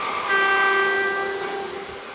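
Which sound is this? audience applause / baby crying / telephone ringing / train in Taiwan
train in Taiwan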